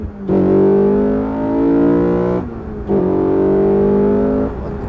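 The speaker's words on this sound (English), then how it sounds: "We come out of the turn and roll into the throttle." Ariel Atom engine on a race track accelerating hard out of a turn, a loud close rising drone that climbs in pitch, cuts briefly for a gear shift, then pulls up again.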